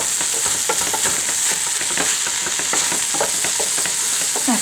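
Ground turkey for turkey chili stirred in a hot pan with a wooden spatula, a steady loud sizzle throughout with scraping strokes across the bottom of the pan, close up and with no talking.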